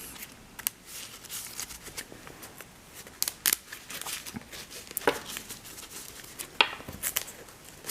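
Crisp, rapid riffling and snapping of playing cards being shuffled, in repeated bursts at close range.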